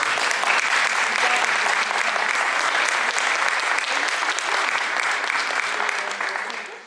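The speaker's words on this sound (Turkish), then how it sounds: "Siz kendiniz alkışlayın." Volunteers in a gathering in Mezitli applaud themselves, a dense, even round of clapping from a sizable crowd that stays level for about six seconds before tapering off.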